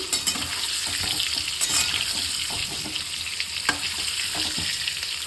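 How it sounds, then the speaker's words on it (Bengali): Potatoes frying in mustard oil in a home kitchen give off a steady close sizzle, with faint stirring clatter and a few light taps of a utensil throughout, no voices. "এদিকে এখন আলুটা ভাজছি।"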